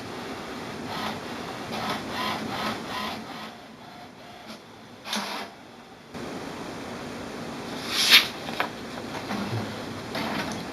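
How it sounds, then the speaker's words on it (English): An HP Ink Tank Wireless 410-series inkjet printer runs steadily as it prints an alignment page, giving a low hum and paper-feed whir, with a few soft clunks and one sharp mechanical click near the end. "The printer is now printing the alignment page."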